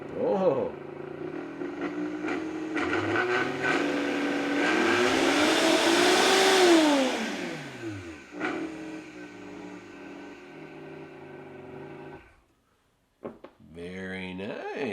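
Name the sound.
Vitamix smoothie blender running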